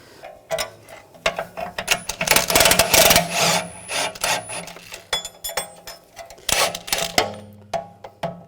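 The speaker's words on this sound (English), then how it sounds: "I'm just going to tap it with a rubber mallet." A rubber mallet taps a nut on the rear wheel bearing of a 2007-2013 BMW X5, giving a series of irregular close knocks mixed with metallic clinks and rattling handling noise.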